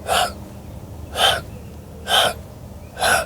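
Four short, breathy reed calls blown through the mouth, evenly spaced about a second apart, close and fairly loud with quiet gaps between.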